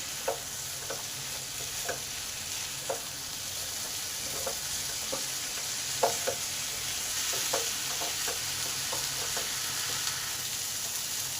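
Chopped tomato sautés in a hot pan, a constant hiss of frying with a spoon stirring and scraping in regular knocks every second or so, close and fairly loud.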